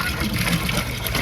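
Hot water gushes from a water heater at a rest stop on a pilgrimage walk to Ranuja, a loud, close, continuous splashing rush without pause.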